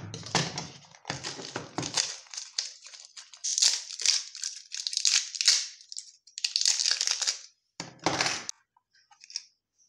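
Cutting and crunching through material for a homemade series test lamp board, a run of close, loud rasping bursts with brief pauses, trailing off into a few faint snips near the end.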